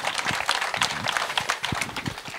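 Wedding guests applaud during a ceremony, a busy patter of hand claps that runs through the whole moment at moderate volume, with a few voices mixed in underneath.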